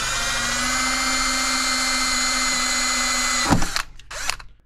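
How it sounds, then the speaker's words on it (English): A power drill whines steadily while boring a small pilot hole in a DIY cable lug for large wires, then winds down and stops, leaving a few short mechanical clatters. "I recommend drilling a small hole first."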